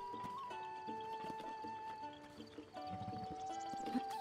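Steady clip-clop of horse hooves with occasional whinnies in The Legend of Zelda: Breath of the Wild, set against continuous game music and ambient tones.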